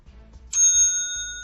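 A bright bell chime, a correct-answer sound effect, rings once after a soft low rumble, its clear tone lingering and slowly fading.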